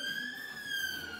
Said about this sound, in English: I'll just wait for the ambulances to pass by.